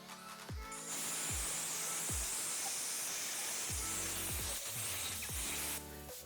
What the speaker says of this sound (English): we're pushing the air in